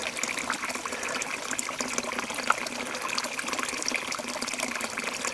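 A steady, continuous rush of water pouring out and splashing, with no talking.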